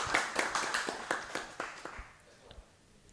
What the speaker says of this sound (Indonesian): Sekali lagi tepuk tangan yang meriah untuk kita semuanya.